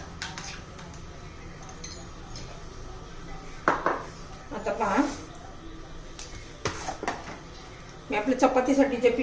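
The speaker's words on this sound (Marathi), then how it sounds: "आता चांगलं दोन तीन मिनिटं फेटून घेते" Eggs are beaten in a bowl for an egg paratha, giving quick metallic clinks and scraping taps in uneven bursts that turn into a faster rhythmic run near the end, over a low background hum.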